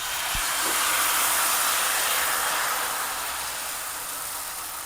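Steady broadband sizzling of amboli rice batter, a traditional Konkan dish with a little turmeric, poured onto a hot pan, continuous and fairly loud, slowly easing off toward the end with no voices.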